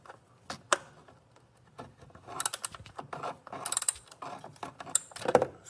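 A socket wrench ratchet loosens 10 mm coil pack bolts on a 2012 Jeep Wrangler engine, making quiet clicking runs and metallic taps in short irregular bursts, close up.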